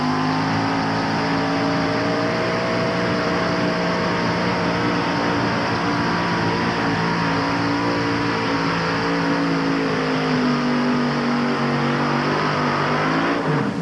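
A pulling tractor with a bigger engine drags a weighted sled at a 1988 NTPA tractor pull in Syracuse, a loud continuous engine roar holding a steady pitch throughout, with no voices.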